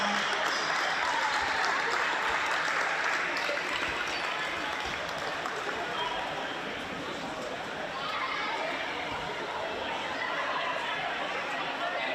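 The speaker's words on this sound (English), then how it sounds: "round of applause for our referees tonight" A crowd at a women's basketball grand final applauds the referees in steady, distant applause with background chatter running underneath.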